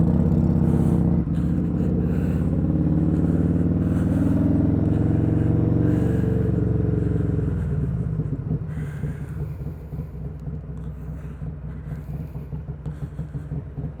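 Bagger motorcycle fitted with carbon fiber wheels riding along, a loud steady low engine drone with wind rumble that drops to a quieter, rougher cruise after about eight seconds.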